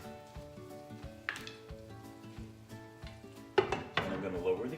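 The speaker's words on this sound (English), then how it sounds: "And I'm going to let them saute for approximately 5 minutes." Mushrooms sautéing in leftover butter drippings in a covered pan, giving a soft, steady sizzle with occasional lid and utensil clatter, fairly quiet and near.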